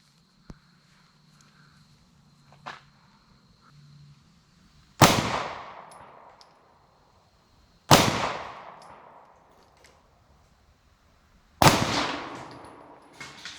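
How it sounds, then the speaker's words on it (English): Ruger concealed carry handgun fired at a target outdoors, three sharp, loud shots spaced a few seconds apart, each ringing off in a short decay, with faint handling clicks before the first shot. "we're going to shoot a few rounds at the target there with this rigger and see how she runs"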